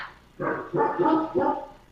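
A dog indoors gives three short, close vocal bursts in quick succession, like brief barks or whines, in a quiet room.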